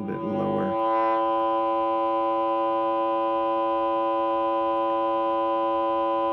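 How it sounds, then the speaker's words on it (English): Sine wave output from a Heathkit ET-3100 electronic design experimenter, a steady buzzy tone with a slightly square edge that holds unbroken after a brief swell at the start. "It has a bit of a square wave sound to it, but you can see on the scope it is a sine wave."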